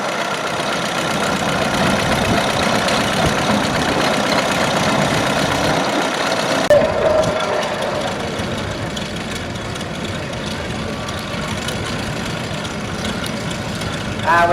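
A 1936 International 1020 vintage tractor built by International Harvester runs steadily at an outdoor vintage rally, its loud, low idling engine chugging continuously with a knocking rhythm throughout.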